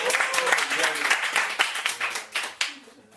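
An audience in a class session breaks into a short round of close, crisp hand clapping that thins out and tapers to a few last claps.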